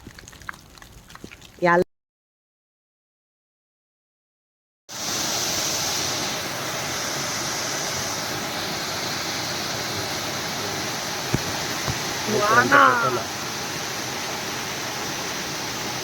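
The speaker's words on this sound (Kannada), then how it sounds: "ಎಳ್ಳಿಮನೆ ಫಾಲ್ಸ್ ಇದು ತುಂಬಾ ಚೆನ್ನಾಗಿದೆ" Steady broadband rush of Hallimane waterfall near Horanadu, loud and continuous for about ten seconds after a short gap of silence, with a brief splash or knock near the end and no talk over it.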